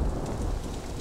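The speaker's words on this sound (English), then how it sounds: "A sudden thunderstorm broke upon him." A thunderstorm sound effect: heavy, steady rain with deep rolling thunder rumbling underneath, dense and loud throughout, no voices.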